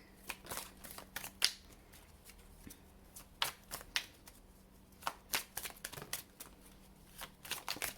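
Oracle cards being shuffled by hand, a quick series of close, crisp riffles and flicks in uneven bursts over a quiet room, with no speech.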